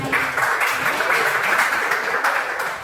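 A classroom of students claps together on the teacher's cue, producing a steady, fairly loud and close patter of hands that continues evenly throughout with no voices on top.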